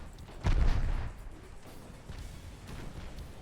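Naval gunfire from a warship engaging an enemy vessel in a strategy game: one heavy, booming salvo with a low rumbling roll that fades, followed by quieter background noise.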